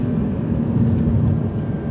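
A turbocharged flat-six in a 2026 Porsche 911 Carrera T (992.2) drones steadily and loudly from near by on a canyon road, a dense low rumble holding an even pitch without sharp revs.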